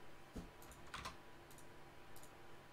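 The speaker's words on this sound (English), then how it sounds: "You're typing in game?" Keyboard typing during a competitive online game match: a few scattered, faint keystroke clicks at irregular moments over a steady low background.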